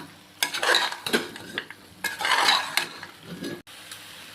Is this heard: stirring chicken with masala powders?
yes